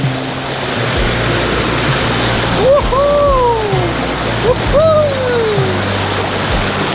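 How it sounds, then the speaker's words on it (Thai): Water from a small waterfall rushes steadily nearby in a constant hiss, with two short rising-and-falling whistle-like tones partway through. "เป็นน้ำตกขนาดเล็กเลย"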